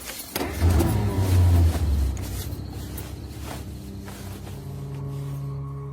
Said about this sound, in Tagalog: Napayuko na lang ako nang simulan ng paandarin ni Tonton ang sasakyan.